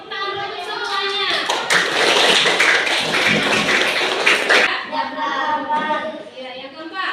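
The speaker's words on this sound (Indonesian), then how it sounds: "tepuk tangan untuk semuanya." A classroom group breaks into brisk, loud applause for a few seconds, a dense burst of hand claps framed by children's voices talking before and after.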